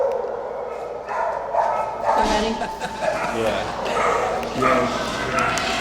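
Dogs at a South Central animal shelter bark and yip in a busy, echoing chorus, with whimpers mixed in, while a person speaks briefly over the noise.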